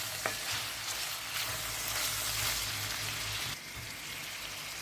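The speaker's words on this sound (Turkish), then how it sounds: "gördüğünüz gibi tereyağımı ilave ettim. Karıştırıyorum." Pieces of lamb sizzle and fry in hot butter with red and black pepper, a dense, crackling hiss that stays steady throughout, with soft scraping as the meat is stirred.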